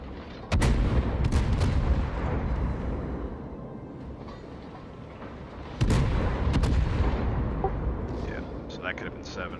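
Naval artillery fires from the cruiser Des Moines in a naval battle video game, two heavy booming salvos several seconds apart, each with a long rumbling tail, and someone talks over the action.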